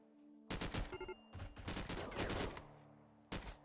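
Charge rifle gunfire in a video game, heard as dense bursts of rapid shots with a brief pause before one last short burst, mixed with synthetic tones and no talk.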